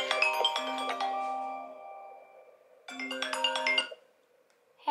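Phone ringtone for an incoming call, a bright melodic electronic chime that plays a phrase, fades, then starts again clearly and alone in a quiet room.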